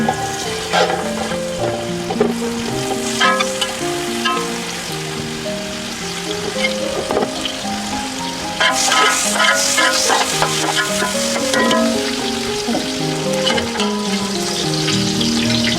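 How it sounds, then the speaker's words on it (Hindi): Chopped onion and curry leaves fry in a pan for beef yakhni pulao, a steady close sizzle with stirring scrapes, accompanied throughout by background music and no talking. "ये देखिए प्याज और कड़ी पत्ता, इसको लाइट ब्राउन करेंगे।"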